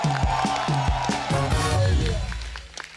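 Studio audience applause and cheering greet a celebrity guest's entrance on a Hindi comedy talk show, a dense wall of clapping and whoops with a host's voice ringing over it at first before the crowd swells.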